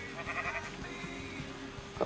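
Sheep bleating in the Minecraft video game, wavering, fairly faint bleats over a low ambient hum, with a brief louder bleat near the end.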